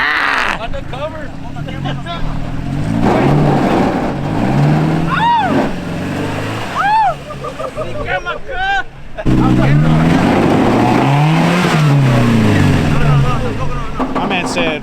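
An off-road truck engine revs hard against the rev limiter, loud and close, with rising and falling bursts and a brief drop before surging again, while people talk and shout over it.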